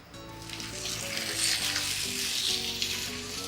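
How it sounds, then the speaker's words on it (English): Veal chops fry in hot oil in a wide pan, a bright, continuous sizzle that swells and stays strong, with soft melodic music playing underneath. "We're gonna fry the chops, the oil."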